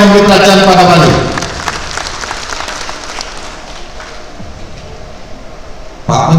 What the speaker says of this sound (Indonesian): Tepuk tangan untuk Bapak Presiden yang memberi perhatian pada Bali.